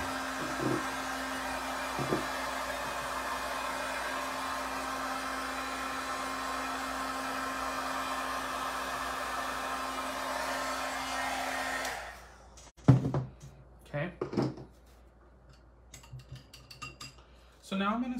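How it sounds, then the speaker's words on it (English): A hair dryer quickly drying a mixed-media craft piece, an altered mermaid clock, runs loud and steady for about twelve seconds, then cuts off, followed by some soft handling clatter. "So now I'm gonna just go ahead and give this a quick dry."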